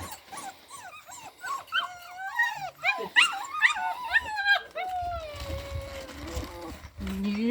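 Young female puppy whimpering and yipping in a series of high, sliding whines with short barks, fairly close, as the dogs are being conditioned to enter a treat crate; a human voice and low rumbling noise join near the end.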